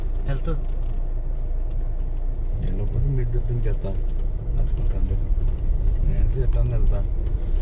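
A car rolling along a bumpy village road in Nizamabad, a steady rumbling drone with rattles throughout, with people talking over it.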